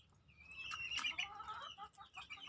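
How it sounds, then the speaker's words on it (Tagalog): Hens clucking and squawking nearby in a rural village yard, a few overlapping calls rising and falling against quiet outdoor background. "Ang dami nilang manok."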